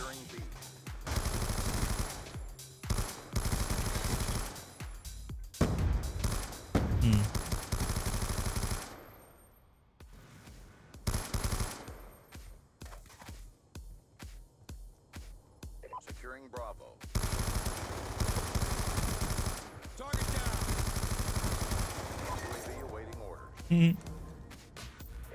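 LMG machine gun fire in the video game Black Ops 2, long rattling automatic bursts repeating with short gaps, loud and close, with voices talking intermittently over the shooting.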